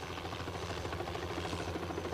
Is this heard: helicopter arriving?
yes